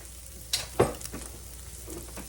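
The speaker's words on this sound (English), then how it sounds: "I'm going to let this flour cook in here a minute." Ground beef frying in a pan with flour sprinkled over it gives a faint, low sizzle, broken by a couple of sharp scraping stirs near the start, then softer stirring.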